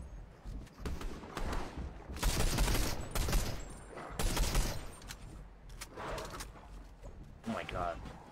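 Bursts of SMG gunfire in an online build-mode shooter tournament, several loud sprays in quick succession under near-constant excited talk from players.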